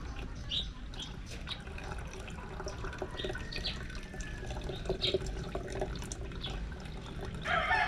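Liquid fertilizer made from malunggay leaves is poured through a strainer, giving a steady trickle and splash of water with occasional drips, close and continuous, with faint birds outdoors.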